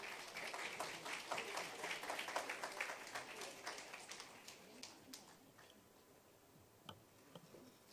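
Fairly faint audience applause welcoming five panelists to the stage at a cruise tourism talk concert during the 2022 Korea Cruise Travel Mart, steady for about five seconds before thinning into a few scattered claps.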